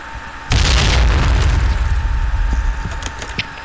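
A grenade goes off in a video game with a sudden loud boom, followed by a rumbling crackling tail and scattered debris-like clatters that slowly die away.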